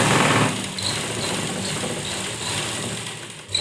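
Sewing machine stitching blouse fabric, a rapid whirring mechanical run that starts loud, then eases into a softer steady hum with faint ticking, close by.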